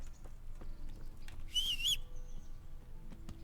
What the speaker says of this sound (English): Man, that whistle is loud and annoying.